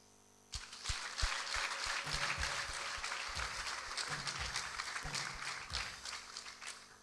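Audience applause at a church gathering with a bishop and his wife, starting abruptly and continuing as a broad, lively clapping wash with some thumps and stamping, fairly close and sustained.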